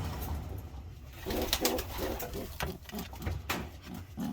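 A female pigeon coos close by in a series of soft, throaty, pulsing calls repeated across the whole stretch, with faint rustling behind.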